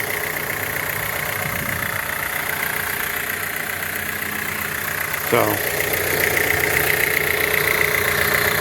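A 2023 Jeep Renegade idles with turbo noise, a steady engine drone carrying a faint high whine. A single word is spoken partway through, and a brief sweeping sound rises near the middle.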